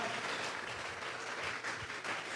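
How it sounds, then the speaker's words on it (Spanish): Congregation clapping during a church sermon, a fairly quiet, continuous patter of many hands heard at a distance with no voices over it. "Vamos a regalarle ofrenda de palmas al Dios de la gloria"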